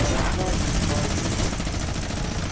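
Rapid gunfire in the Fortnite video game, a dense, continuous stream of shots under a loud, busy battle mix with no clear gaps.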